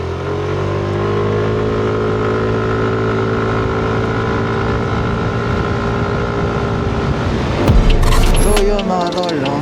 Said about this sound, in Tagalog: parang nataas yung RPM niya mga pre. Hindi katulad ng sa stock clutch spring na 800 RPM.